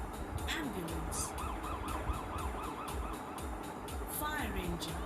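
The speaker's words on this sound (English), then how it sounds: "ambulance" An ambulance siren wails in rapid rising and falling cycles over busy road traffic. It is moderately loud and repeats several times across a few seconds.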